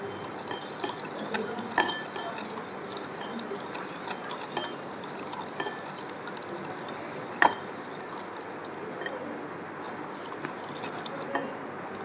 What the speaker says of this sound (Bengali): আমি কিছুক্ষণ নাড়িয়ে নিলাম